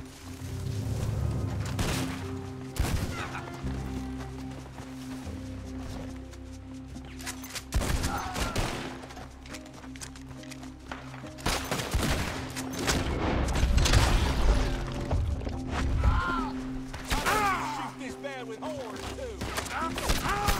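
Rapid gunfire in Red Dead Redemption 2 during a bank heist, with repeated bursts, booms and crashes across the whole stretch, some close and loud, mixed with game speech and other noise.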